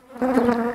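Honey bees buzz loudly and steadily at close range at an open beehive that had swarmed, a dense droning hum rising after a brief quiet start.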